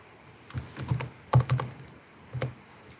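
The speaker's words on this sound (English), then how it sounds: "It's a quiz game, so that is what I'm typing so that every person can see it." Fast bursts of key presses on a computer keyboard during a live-streamed quiz game, clustered in short irregular runs with pauses between, close and clear with no voices.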